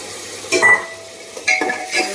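Garlic and onion paste sizzles in a pan as it is stirred, with a soft steady frying hiss and two or three short scraping bursts from the stirring.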